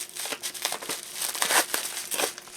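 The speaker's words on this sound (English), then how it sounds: "we have these other packages I need to unwrap" Plastic packaging around ZNTER rechargeable lithium C and D size batteries is crinkled and pulled open, a close, continuous crackle of crumpling plastic with uneven bursts.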